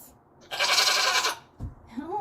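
A goat gives one loud, wavering bleat close by, followed by a short grunt and a rising vocal sound.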